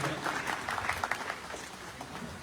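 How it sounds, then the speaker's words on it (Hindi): Applause welcoming a guest at a public gathering, a short burst of dense crowd clapping that carries steadily throughout, with faint voices mixed in. "इनको भी तालियों से स्वागत किया जाए।"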